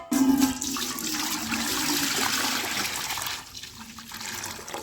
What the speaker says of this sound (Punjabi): ਆਪਾਂ ਲੈ ਲਈ ਆ ਬਾਲਟੀ ਤੇ ਹੁਣ ਇਸ ਵਿੱਚ ਆਪਾਂ ਪਾ ਲਾਂਗੇ ਗਰਮ ਪਾਣੀ